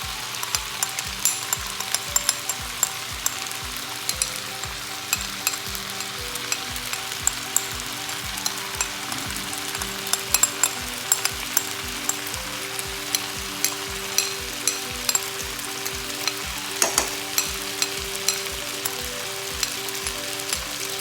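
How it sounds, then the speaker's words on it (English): Vegetables and garlic stir-fry with sauces in a pan, restaurant-style Thai: a loud, continuous sizzle under a steady run of rhythmic utensil clicks and scrapes as everything is mixed, with no talking. "you need to just mix everything nicely with the garlic, all the pieces of the vegetables"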